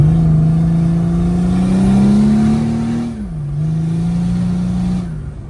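Mercedes OM603 diesel engine with a Holset turbo and intercooler, spooling up: a loud, close whine that climbs steadily, then dips and settles back, over a low engine drone, with no talking.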